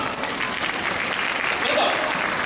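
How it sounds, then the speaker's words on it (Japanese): An outdoor yosakoi dance festival crowd claps to welcome a guest singer, loud and continuous applause close by, with some crowd voices under it. "大きな拍手でよろしくお願いいたします"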